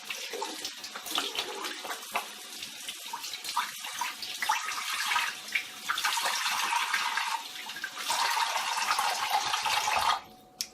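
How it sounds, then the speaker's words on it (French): Tap water runs steadily into a sink while a face is rinsed. Close splashing and rushing water is heard, uneven in strength, then cuts off near the end with no talk. "Et maintenant, je vais rincer"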